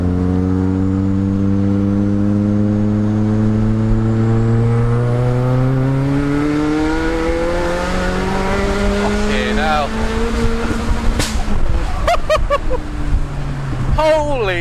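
A 380bhp Vauxhall Astra VXR accelerates hard on full boost, its engine note climbing steadily through the revs, then a gear change and further surging with pops, loud and close from inside the car.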